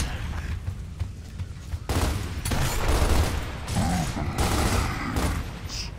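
Rapid bursts of gunfire and heavy explosions from the video game Gears of War as propane tanks are shot, dense and loud with a booming blast partway through, continuing in a sustained barrage.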